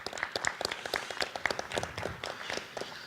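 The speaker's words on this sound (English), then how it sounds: "Let's give them a round of applause." An audience at the 2018 Madison Cup event gives a round of applause, with brisk, scattered claps from a modest crowd heard at moderate distance.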